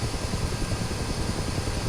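A Huey helicopter flown in a flight simulator game gives a steady, loud rotor drone with a dense broadband engine roar and a faint rhythmic beat, continuous and unbroken throughout.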